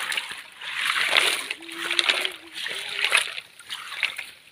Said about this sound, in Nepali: माथि देखि पो झर्दो रहेछ यो पानी त